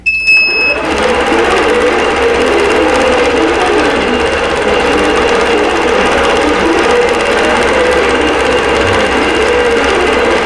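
A sewing machine runs steadily, stitching a Winter Wonderland tree skirt pattern; a dense, continuous mechanical whir and rapid needle chatter holds at a constant loud level for the whole stretch, with no voices.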